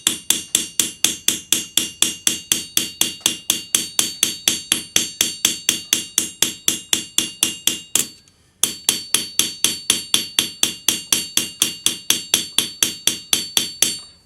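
A metal bangle being shaped by anticlastic forming is struck with a hammer in a steady, rapid rhythm of sharp ringing blows, close and loud, with one brief pause midway before the strikes resume.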